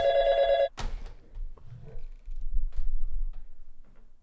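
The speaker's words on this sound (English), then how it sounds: "the phone's ringing" A telephone bell rings loudly in a short burst at the start, then stops, followed by quiet rustling and low room noise with no talking.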